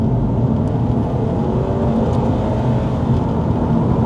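A 2012 Subaru Impreza WRX STI A-Line automatic accelerates in second gear, a loud, dense engine roar and road rumble heard from the cabin, steady and unbroken for a few seconds with no speech.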